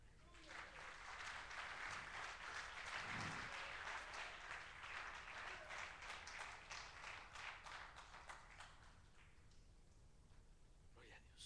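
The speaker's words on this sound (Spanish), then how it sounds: "¿Quién le da un aplauso al Señor?" Church congregation applauding during a Spanish-language worship service at a Kansas congress, a dense sustained patter of many hands that swells, holds for several seconds, then gradually thins as talk rises underneath.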